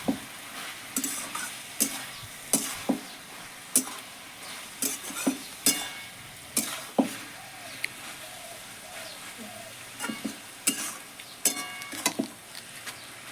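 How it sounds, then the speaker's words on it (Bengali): Potato greens and cane greens fry in a pan with chilies and sugar, a low sizzle broken by repeated sharp spatula scrapes and clacks in an uneven rhythm, with a pigeon cooing faintly in the background. "আর দিয়ে দেবো স্বাদ ব্যালেন্সের জন্য চিনি দিয়ে আমি আর একটু ভেজে নেবো শাকটা"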